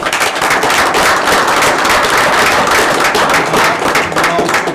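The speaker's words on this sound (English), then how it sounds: "I think we should give him a big applause" Council meeting attendees give a loud, sustained round of applause for a retiring operations manager, dense clapping close up with sharp individual claps throughout.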